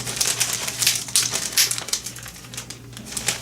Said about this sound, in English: I'm just going to take off the tape at the bottom here